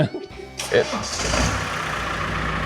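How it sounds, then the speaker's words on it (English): Hatchback with a 4x4 conversion starting up, a brief cranking then the engine catching and revving up close, settling into a rough idle. "Do you want to start up and give it a rev?"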